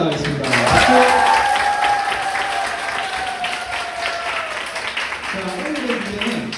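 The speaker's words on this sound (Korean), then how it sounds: "한밤의 디베이트 시작을 축하하는 박수로 시작하겠습니다." Audience applause greets the start of a late-night student debate battle, a steady dense clapping wash lasting several seconds while a host's voice speaks over it near the end.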